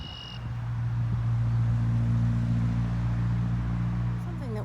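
Cars passing near a pond, a steady low traffic rumble droning throughout beside the water, with a brief high tone at the start and faint outdoor ambience.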